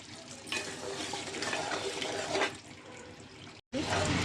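Chicken curry being stirred in a pan after coriander and mint go in, a steady wet scraping and bubbling sizzle throughout, briefly cut off near the end, with a voice talking over it.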